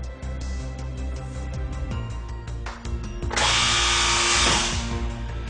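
A Gannomat Elite dowel inserting machine doing vertical drilling into wood, a steady mechanical hum with clicks, then a loud sustained whirring drill burst for about two seconds before winding down, close and prominent.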